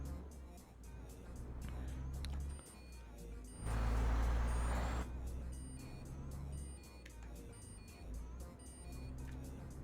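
Reversing alarm beeps repeat at a steady rhythm over the engine rumble of a Renault Magnum truck in Euro Truck Simulator 2, with a louder burst of engine noise midway and someone talking intermittently.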